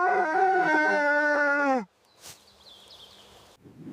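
A large dog howls in a loud, sustained, wavering tone for nearly two seconds, then breaks off into near silence with only faint background noise.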